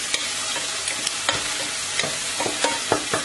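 Green beans frying in a pan without added water are stirred, giving a steady hiss of sizzling with several sharp scraping clicks of the utensil, close and fairly loud, with no voices.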